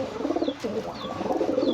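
Saharanpuri pigeons cooing close by, a few soft throaty coos repeating over a quiet background, no talking.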